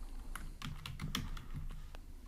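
Code is typed on a computer keyboard in a quick, uneven run of crisp key clicks at close range, with no voices.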